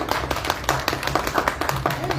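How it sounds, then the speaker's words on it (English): An audience claps at a convention cosplay panel at MomoCon 2024, dense rhythmic clapping from a crowd running throughout with speech mixed in over it. "round of applause for you guys too"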